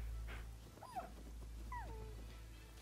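A dog in the video game Rise of the Ronin gives two short whimpering whines, rising then falling, faint over a steady low game hum with no talk.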